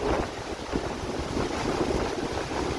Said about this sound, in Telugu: చాలా గాలి వస్తుంది